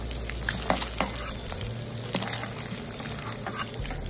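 Eggs seasoned with turmeric and salt fry in hot oil in a pan, giving a steady bubbling sizzle with occasional sharp crackles and spatters, close and continuous.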